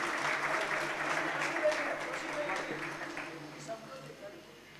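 An audience at a public talk program in Surat gives sustained applause for a police inspector, the steady clapping slowly thinning out.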